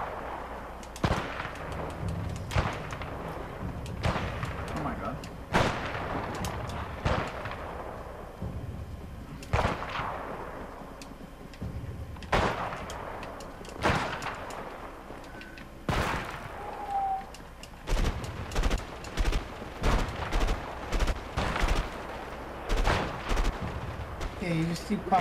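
Gunshots from a sniper shootout in the video game A Way Out, sharp single cracks spaced irregularly and then clustering faster near the end, with a voice talking between them.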